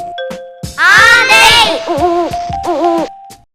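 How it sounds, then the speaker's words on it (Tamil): Owl hooting among bird calls, loud hooting tones near the start followed by several shorter, wavering repeated hoots, close and clear with no talk. "ஆந்தை,"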